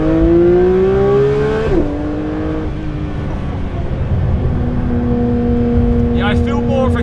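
A 2023 Porsche 992 GT3 RS engine revs hard toward 9,000 RPM, its pitch climbing and then dropping sharply at a gear change before pulling again, loud and close from inside the car, with occasional talk.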